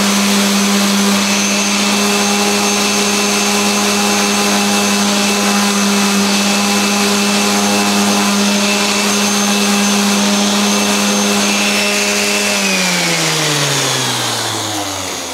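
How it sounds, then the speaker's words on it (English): A steady, loud motorized whine of a power sander running continuously while sanding a guitar fretboard, its pitch dropping near the end as it slows down. "now I'm going to sand that angle"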